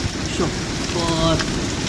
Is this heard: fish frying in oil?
no